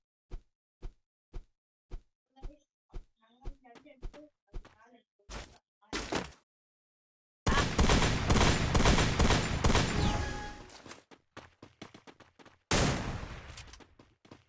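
Gunfire in the mobile shooter Free Fire: a string of single shots spaced about half a second apart, then longer dense bursts of rapid automatic fire, loud and close, with speech mixed in.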